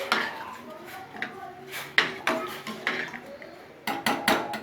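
Sliced potatoes with salt stirred in a pan for a spicy potato fry, the utensil knocking and scraping against the metal in irregular clattering strokes, close and moderately loud.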